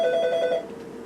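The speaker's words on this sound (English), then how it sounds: "Oh, this darn phone." A landline telephone rings indoors in a loud, steady electronic tone for about half a second, then fades into a quieter trailing ring.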